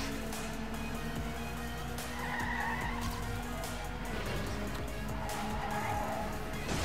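Car drifting in the racing video game Trackmania United Forever: a steady engine drone with tire skid noise running continuously throughout, fairly loud and close, no talking.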